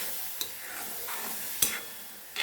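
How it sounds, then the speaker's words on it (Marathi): Chopped tomato and onion frying in oil, stirred in a pan, with a steady soft sizzle and a few scraping stirs, close and alone. "बघा टमाटर आणि कांदा व्यवस्थित शिजत आहे."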